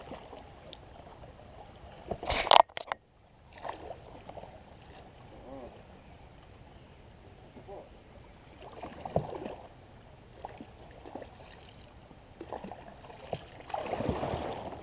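A kayak paddled on water pushing off from a log, with soft intermittent splashes and dripping strokes, a sharp knock near the start, faint background voices.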